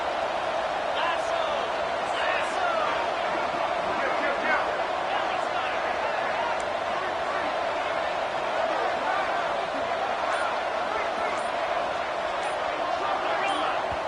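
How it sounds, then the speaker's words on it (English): A stadium crowd roars steadily at a college football game between MDF1 and UTSA, a dense, continuous wall of noise with scattered shouts and no break, loud enough to force a false start. "with this place rocking, the crowd forces a false start"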